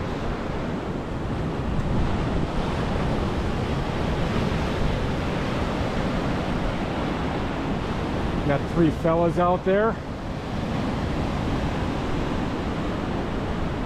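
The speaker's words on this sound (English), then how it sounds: "Got some good swell action going on." Ocean surf rolls and breaks continuously beside Imperial Beach pier in San Diego, a steady broadband wash with wind noise, while someone talks briefly over the waves near the middle.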